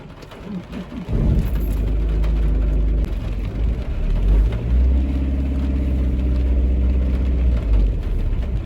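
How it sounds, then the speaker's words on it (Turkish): Car engine held at full throttle while climbing a hill and failing to pull, a steady loud low drone that sets in after a brief pause and holds with slight surges, close and without talk. "Şu an kökledim gazı yokuş yukarı çekmiyor araba."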